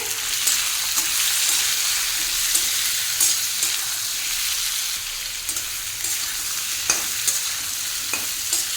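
Spices for shukto, a Bengali vegetable dish, frying in a pan and stirred repeatedly, with scraping strokes and light clinks over a steady sizzle, close and fairly loud, no speech.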